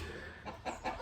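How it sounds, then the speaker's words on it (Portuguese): A chicken clucks in a few short bursts over a steady background hum, fairly faint and close by. "Cala a boca, galinha."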